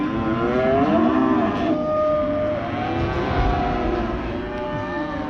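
Cattle moo loudly and continuously nearby as a rider on horseback drafts them off, long drawn-out calls overlapping one another with no talk.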